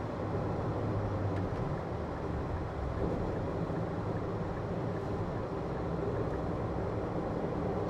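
Nissan Serena e-POWER Luxion accelerating up an expressway merge lane just past a toll gate: a steady, full cabin rumble of road and drivetrain noise that holds for the whole stretch, with no one speaking.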